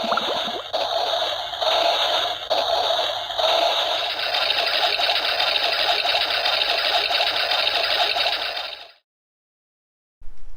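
A washing machine loaded with clothes, detergent and softener runs with a steady churning, sloshing wash for several seconds. Water noise and a faint rhythmic mechanical hum sit close by, then everything stops abruptly.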